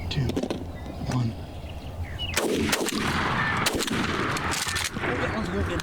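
Sharp shotgun blasts crack out during a Wisconsin youth turkey hunt in 2025, with a few distinct reports spaced across the stretch amid outdoor background noise and people talking nearby.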